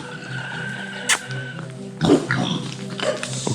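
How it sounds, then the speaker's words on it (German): Pigs on a farm at an old mansion grunt and squeal in short, close bursts, with a louder cluster in the second half over a low background hum. "Was machen die Schweine?"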